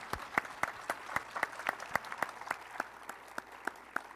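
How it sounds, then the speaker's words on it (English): An audience at an evening panel talk claps in sparse, distinct hand claps at a fairly steady rhythm, fairly quiet and heard alone without speech. "Please give them all a round of applause."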